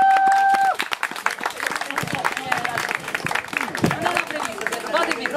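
Applause and cheering from the audience at a summer cosplay contest, a sustained dense burst of clapping with crowd chatter mixed in, while a host speaks over it in the opening second.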